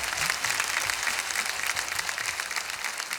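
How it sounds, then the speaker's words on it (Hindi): Dense, steady applause from a television studio audience at a music competition fills the whole stretch, loud and continuous with no talking. "जोरदार तालियां हो जाएं for Ankush and for Rituraj."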